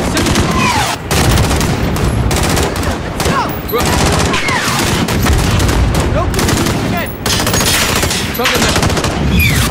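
Gunfire in Call of Duty: Modern Warfare (2019) on PC, a dense, loud, continuous barrage of rapid automatic shots with brief gaps, booming impacts and scattered battle noise mixed in.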